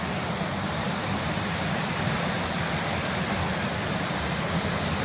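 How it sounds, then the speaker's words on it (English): Waterfall at Careyburn Bridge roaring in a steady broadband wash of falling water, loud and close, with no talking. "the waterfall's just ahead here"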